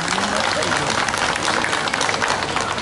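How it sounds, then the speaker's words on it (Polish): Dense applause from a crowd at a municipal day celebration at a folk festival in Kraków, steady and loud throughout, with faint voices mixed in. "Wielkie brawa, brawa."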